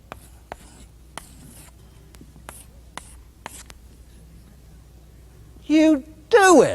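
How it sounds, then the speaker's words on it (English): Pen scratching out a short handwritten list on paper, a series of brief scattered taps and strokes, followed by two short bursts of a voice at the end. "Write it down."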